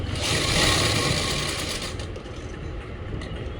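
Sewing machine stitching a palazzo's pocket seam, a steady close whirring run that eases slightly after the first two seconds.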